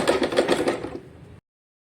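A sewing machine runs a hemming stitch on a blouse piece, its rapid even mechanical clatter close and loud for over a second before it stops abruptly into silence.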